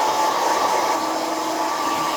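A hair dryer runs steadily and close at a barber's shop, blowing a customer's hair dry with a continuous even whoosh and hum from start to finish, no voices over it.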